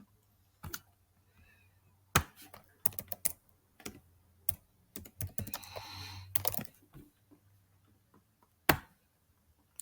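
Keys clicking on a computer keyboard while entering initials, a scattered series of close, sharp taps with pauses and one denser burst partway through, over a faint steady hum.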